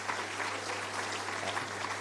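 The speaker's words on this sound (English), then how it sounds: "can we have another round of applause for NASCOP?" Applause from an audience at an HIV self-testing discussion event, a steady wash of clapping filling the short stretch at moderate level with a faint hum beneath.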